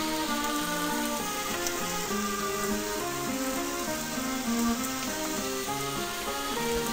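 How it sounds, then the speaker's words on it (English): Meatloaf frying in a pan, a steady crackling sizzle of fat and juices that runs continuously and fairly quietly, with a faint background tone and no talk. "And just let it fry."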